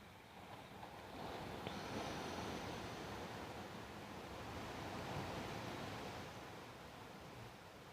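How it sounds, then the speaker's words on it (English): Steady roar of ocean surf, a broad rushing wash that swells slightly and stays continuous throughout, with no voices. "Hope you can hear that ocean roaring in."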